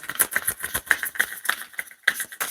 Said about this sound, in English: That noise you can hear is me bobbing up and down on this blooming chair while I'm shuffling.